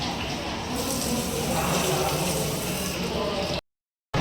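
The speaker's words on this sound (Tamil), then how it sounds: "ஹேண்ட் வாஷ் பண்ணுவோம்" Tap water running steadily into a sink as hands are washed in a hotel, a loud continuous gush that cuts off abruptly near the end before briefly resuming.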